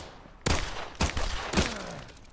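SVT rifle firing in the VR shooter Contractors on the Dust 2 map: three loud, close single shots, evenly spaced about half a second apart, each with a short echoing tail.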